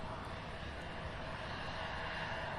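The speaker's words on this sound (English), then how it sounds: "we have Amazon Air Flight 3685 coming in from Austin, Texas, in a 21-year-old Boeing" A 21-year-old Amazon Air Boeing 737 arrives at Cincinnati's CVG airport from Austin, heard as a faint, distant, continuous jet roar.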